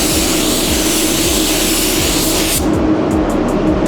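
A spray gun lays a first coat of Alpha Automotive paint onto a car hood, giving a loud, steady, close hiss that continues throughout and thins out in its upper range near the end.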